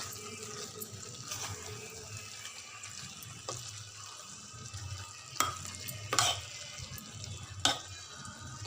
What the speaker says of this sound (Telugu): ఇప్పుడు కొద్దిగా ధనియాల పొడి వేసి మంచిగా కలుపుకొని కబాబ్ చేసుకోవాలి